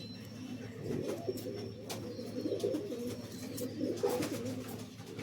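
Red-eyed domestic pigeons in a lot for sale coo softly and continuously nearby, a low rolling murmur with a few faint sharp ticks scattered through.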